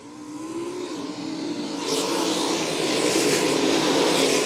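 Sprint race cars at Crystal Motor Speedway roar past in a dense, continuous engine howl that swells louder midway and stays full and close to the end.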